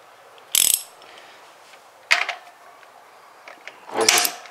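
A ratchet turning a socket to loosen the PCV valve on a 2008 Toyota RAV4 2.4L 2AZ-FE engine, giving three short, separate clicking bursts against a quiet background.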